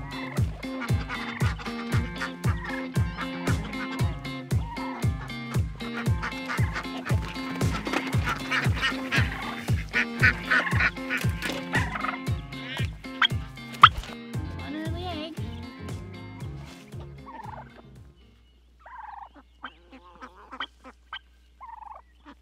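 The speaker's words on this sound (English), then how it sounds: "Let's go feed the chicken." Backyard chickens being fed let out a rapid, loud run of honking, goose-like clucks that pulse rhythmically for about eighteen seconds, then fade to a few scattered calls near the end.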